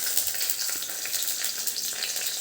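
Chopped garlic sizzles in hot oil in a pan with asafoetida, a steady crackling hiss close up with faint stirring and no talk.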